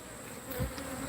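Honey bees buzz around hive boxes while a colony is split, a dense close-up hum with no talking.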